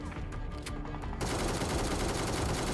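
Gunfire from M762 and ACE32 rifles in a 25-versus-25 PUBG Mobile battle, a dense continuous fusillade of shots that swells louder halfway through and keeps roaring without talk.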